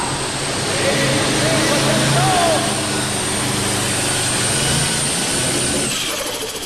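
A Ford tractor roars at full throttle during a tractor pull at the 1995 National Farm Machinery Show, a loud, sustained roar with a slight rise and fall, while an announcer's voice talks over it.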